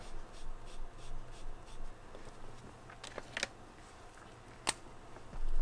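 A Pentel Sign brush marker squeaks and scratches across paper in short repeated strokes, close and fairly quiet, with a couple of sharper clicks.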